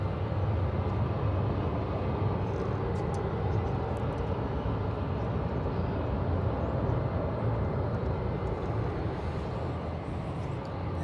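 American Airlines Boeing 737-800 jet arriving at Dallas Fort Worth airport, a steady broad engine roar heard from a distance, continuous and even throughout with no voices.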